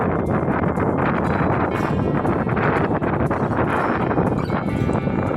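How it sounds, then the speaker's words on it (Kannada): Strong wind buffets the microphone continuously with loud, roaring gusts that never let up, on the Devaramane hilltop sunset viewpoint near Mudigere. "ಇಲ್ಲಿ ಬಂದರೆ ತುಂಬ ಗಾಳಿ ಇತ್ತು."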